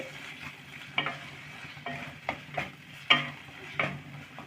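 Masala for chole fries in a pan and is stirred. Distinct spoon scrapes and taps come every half second or so over a low sizzle, close and fairly quiet, with no voices.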